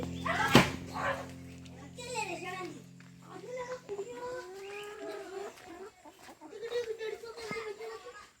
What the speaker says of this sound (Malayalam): ഇതിനകത്ത് കോഴിയാണ് ആ പിങ്ക് ഷെൽട്ടറിനകത്തുള്ളത്